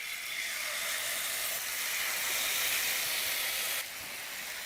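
Chicken pieces hit a little hot oil in a pan on the stove, giving a loud, steady sizzling hiss that holds for several seconds and then drops slightly in level.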